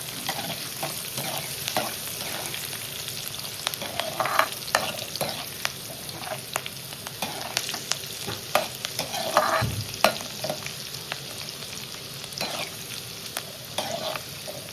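Onion pieces and curry leaves frying in a pan for a tomato chutney, a steady sizzle broken by frequent scraping stir strokes and clinks, close up with no talk.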